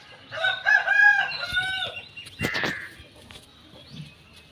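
A rooster crows loudly and close by in a village, a drawn-out cock-a-doodle-doo, followed by a sharp rustle and some quieter clucking afterward.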